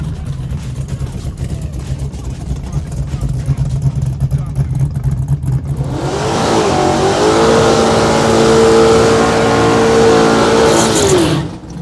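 A junkyard 454 Holden Monaro and a 427 Mustang at a drag race: a low idling rumble under talk, then a loud engine launch with a rising, revving whine that holds for several seconds before cutting off abruptly.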